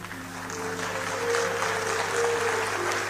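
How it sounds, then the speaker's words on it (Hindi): An audience at a Haryanvi poetry recital claps steadily for a few seconds, a moderate spread of many hands over a low hum and a faint held tone. "आपकी तालियां ही मेरा पारिश्रमिक है, इस बात का आप ध्यान रखें।"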